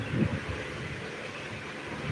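Wind blowing outdoors on a rainy day, a steady low rumble buffeting the microphone with a brief stronger gust at the start.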